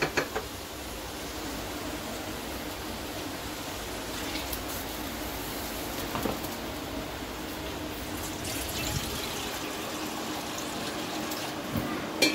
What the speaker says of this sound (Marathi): आपण त्यात पाणी टाकून देऊया आता